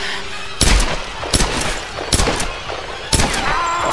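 Gunfire in the Tomb Raider video game, four sharp shots spaced about a second apart over a busy, noisy game backdrop, fairly loud and close.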